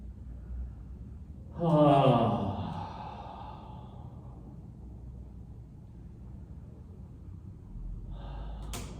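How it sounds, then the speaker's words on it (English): A single deep breath taken during a gentle relaxation and stretching exercise, an audible inhale and slow exhale rising clearly near the start, then fading into quiet room tone with a faint breathy sound at the end. "And we'll just take a breath here."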